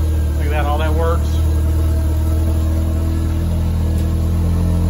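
A 1987 Ford Escort GT with a 5-speed runs after a cold start, its steady engine drone loud and close throughout, with people talking nearby.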